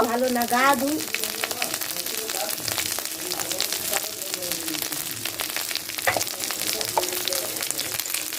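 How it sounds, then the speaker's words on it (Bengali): Ginger and garlic paste with turmeric fries in a pan, giving a steady, loud, dense sizzle that runs the whole time with occasional stirring clicks. "আদা রসুনটা ভালো করে ভেজে নেব"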